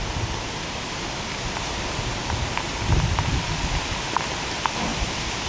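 Steady rain falls at Vasai fort, a dense even hiss with scattered drips tapping nearby, no voices.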